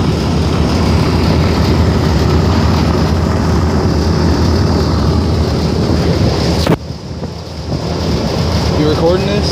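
Engines of a C-47 aircraft in flight drone steadily and loudly with heavy wind rush through the cabin, then briefly drop in level before the roar builds again.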